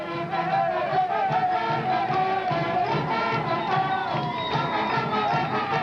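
A very large crowd cheers and roars steadily as the Wayland high school football team takes the field for the second half of a 1991 Thanksgiving game, continuous and fairly loud.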